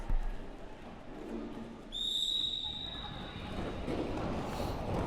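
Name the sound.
referee whistle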